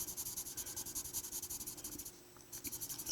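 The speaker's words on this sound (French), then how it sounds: "ça gratte le papier" A King Art colored pencil scratches across paper in quick, rhythmic back-and-forth strokes, heard up close, with a short pause before the strokes resume.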